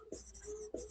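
Chalk or marker writing on a board during a lecture on brick manufacturing, two short scratchy strokes close together, faint and heard alone.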